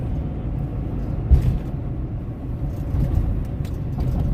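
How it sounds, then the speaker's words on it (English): A Dodge Durango engine runs with a low, throaty rumble that holds steady and loud for the whole stretch, with no clear rise into a rev. "That's why I don't drive a Durango. Maybe it just revs higher than I'm used to."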